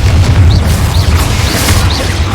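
A Confringo fire spell in Hogwarts Legacy erupts in a loud, dense, rumbling burst with crackling debris and small whooshing flourishes. No voices are heard over it.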